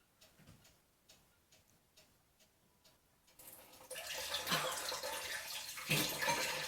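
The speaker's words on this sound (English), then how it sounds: "Oh my gosh, we have water. And it's flowing out very decent." Water gushes from a faucet at an off-grid water setup: a few faint ticks first, then a sudden loud, steady rush of flowing water that carries on to the end.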